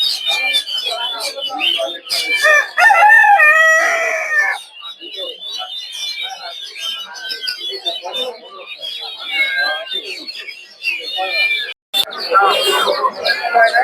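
Chickens and roosters at the Friday Mirpur 1 poultry and pigeon market cluck and crow loudly and almost continuously, while someone talks over the din.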